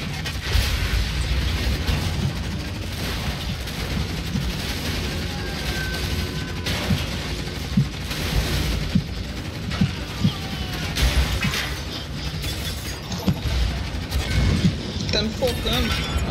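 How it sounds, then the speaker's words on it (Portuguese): Renegade Ops gameplay gunfire: repeated sharp shots and explosive bursts crackle among vehicle and mechanical game noise, loud and busy, while someone talks over much of it. "vi uns tiros ali"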